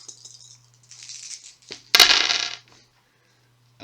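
Several dice rolled together for an attack in a Shadows of Brimstone board game, a short loud clatter of tumbling dice that rattles for about half a second and then settles, with softer handling sounds before it.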